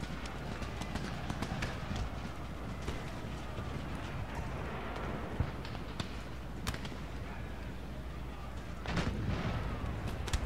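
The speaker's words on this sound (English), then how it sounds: "Stop shooting the backs of my own grenadiers." Continuous battle din from an Empire: Total War engagement, dense crackling musket volleys with scattered sharper reports over a steady rumble, a heavier burst near the end, with faint speech in the mix.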